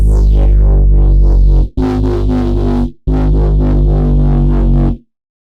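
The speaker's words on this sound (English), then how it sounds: "I just added some erosion. This is a noise generator." A heavy distorted synth bass, made in the Vital synth, plays a rhythmic pattern with a gritty, hissy erosion noise layer around 3000 Hz on top, loud and upfront, stopping briefly twice before ending.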